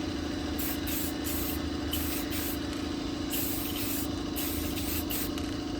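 A spray can hisses in bursts over a sandblasted VW Beetle vent glass frame, several short and longer sprays with brief pauses, close and fairly quiet against a low background hum.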